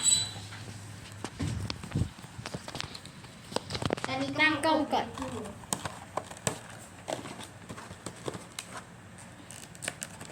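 Crinkly plastic packaging of a DIY Rubik's cube being torn and pulled open in irregular bursts of rustling and crackling, close up, with someone speaking briefly.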